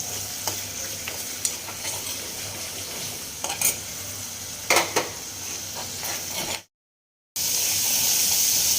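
Peas being roasted in a pan crackle in a loud, continuous sizzle, broken by scraping stirs. The sound drops out for a moment near the end, then the sizzle returns.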